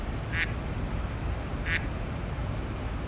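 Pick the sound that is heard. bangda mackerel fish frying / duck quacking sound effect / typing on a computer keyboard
duck quacking sound effect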